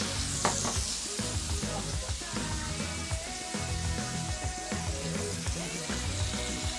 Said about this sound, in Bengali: স্বাদ মতো লবণ দিয়ে দিচ্ছি এবং পেঁয়াজটা ভাজা হতে হতে এটাতে আমি বাকি মশলাগুলো দিয়ে দিচ্ছি